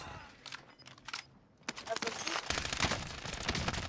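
Bursts of rapid gunfire from the video game Fortnite, irregular sharp cracks building into denser volleys in the second half, loud and close, with background game noise.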